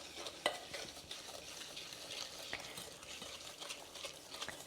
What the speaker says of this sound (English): We're going to start with those ingredients first